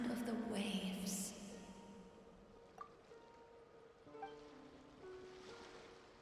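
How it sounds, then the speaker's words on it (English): Ocean waves wash in Genshin Impact, a soft surf rumbling as a steady backdrop that dips after the first second, with faint water splashes under game music. "Go to where you can hear the sound of the waves."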